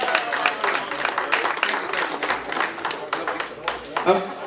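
Applause ripples through a crowd at a charity ball auction, a sustained patter of many hands clapping with a speaker's voice heard over it.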